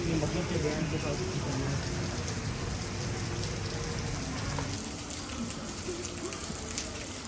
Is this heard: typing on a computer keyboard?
no